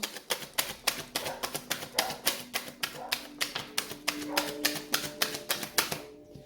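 Rapid, evenly spaced snaps of tarot cards being shuffled, about three or four per second, crisp and close, ending abruptly.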